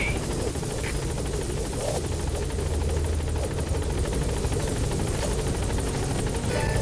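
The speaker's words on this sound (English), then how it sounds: "Support helicopter has arrived." Support helicopter from Metal Gear Solid V arriving, a steady, loud rotor thrum with rapid blade chop and turbine whine, sustained and close throughout with no voices.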